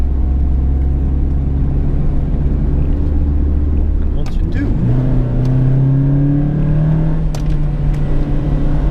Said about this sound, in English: second gear, foot to the floor right now, doing maybe like 45 kilometers, nothing's happening